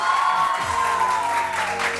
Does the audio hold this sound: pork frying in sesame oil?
no